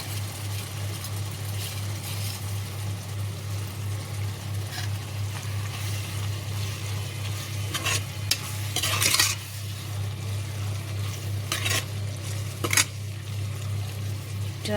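Onion kharia with coriander roasts in a pan, giving a steady sizzle over a low hum, broken by occasional scraping stirs and clinks.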